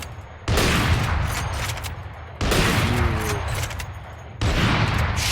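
Gunfire in the video game Valorant: three loud bursts of shooting, each a sustained crackling volley, separated by short gaps, up close and without speech.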